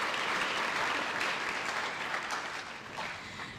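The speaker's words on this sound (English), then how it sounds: "go ahead and clap" Graduation audience clapping steadily for a few seconds, a dense wash of many hands filling the hall with no voices over it.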